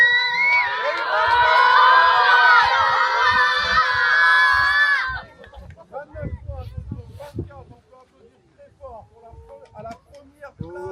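A group of children at a Real Madrid Foundation football camp cheer and shout loudly together for about five seconds, then the noise drops to scattered voices and talk.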